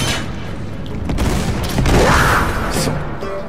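A thrown-back grenade goes off in the Uncharted 3 video game, a burst of booming blasts mixed with scattered gunfire, loud and dense over about three seconds.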